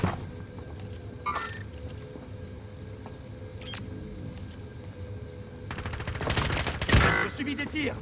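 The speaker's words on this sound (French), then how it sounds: "Je subis des tirs." Bursts of automatic gunfire in Call of Duty Warzone, fairly distant at first over a low ambient hum, then a closer, louder burst of rapid shots near the end with sharp clicks in between.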